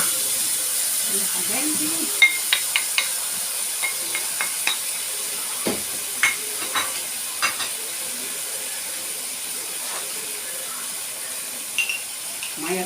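Tomatoes hit a pan of frying moussaka, setting off a steady hissing sizzle with scattered sharp pops and clinks of stirring throughout, while someone speaks briefly over it.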